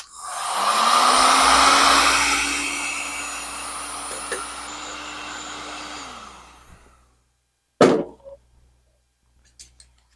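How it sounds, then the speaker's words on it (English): A heat gun blows hot air while modifying a Twister MKIII fly tying vise base, a loud steady whooshing roar with a rising whine that cuts off, followed by a sharp knock and a few faint taps. "what I'm just going to use is a heat gun"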